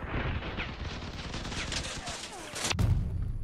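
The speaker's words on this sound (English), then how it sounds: "Oh, there's a guy with a cannon." Cannon and gun fire rattle through a battle in the vehicle combat game Crossout, a dense, continuous barrage of shots with a sharp louder crack near the end, heard as a busy wall of game noise.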